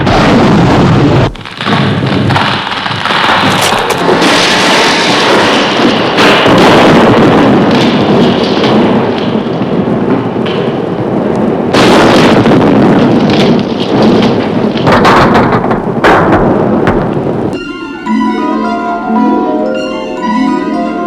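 A reserve escape capsule fires in a rocket-launch effect, a loud sustained roaring blast with rumbling bursts that swell and cut off, followed by quieter electronic tones near the end.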